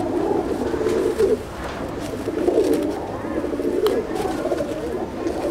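Chennai breed pigeons coo steadily in a loft, a low continuous rolling murmur of several birds close by, with no talk.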